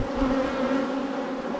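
Honey bees buzz steadily at an opened hive during a brood inspection, a close, continuous droning hum that holds level throughout with no talk.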